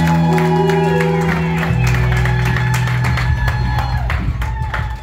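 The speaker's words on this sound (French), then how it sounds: "Avec vos grands applaudissements, on commence les festivités." An audience at a formal celebration honouring a Senate vice-president bursts into applause and cheers. Scattered claps and shouts mix with sustained tonal sounds in a loud, lively crowd.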